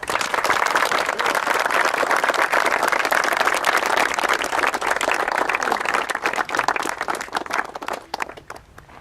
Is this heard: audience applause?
yes